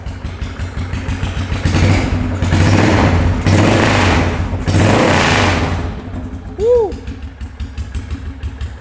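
A modified single-cylinder 400cc Yamaha SR400 chopper idles and revs with a heavy, low thumping pulse, loud and close, swelling in bursts before settling back to a steady rumble.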